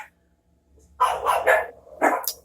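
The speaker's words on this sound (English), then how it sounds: "And the dogs are barking." Dogs bark outside during stormy weather, with a quick burst of three loud barks followed by two more sharp yips after a short pause.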